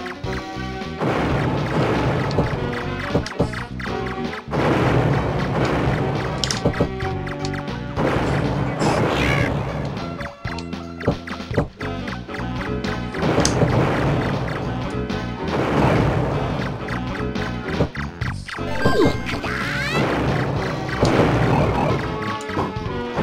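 Bomb explosions from Neo Bomberman on the Neo Geo: repeated loud crashing blasts and game effects, dense and continuous over layered game music throughout.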